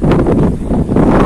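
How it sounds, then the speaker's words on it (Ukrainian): Steady wind rushes and buffets the microphone outdoors in a park by the water on a late autumn day, loud and continuous for the whole moment with no voices. "Сьогодні трішки вітряно."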